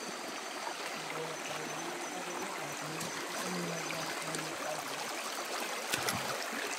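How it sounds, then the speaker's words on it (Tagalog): A stream runs through a remote mountain forest, a steady broadband rush of flowing water with a faint low gurgle, continuous and fairly close, with no talk over it. "Yan, may sapa na."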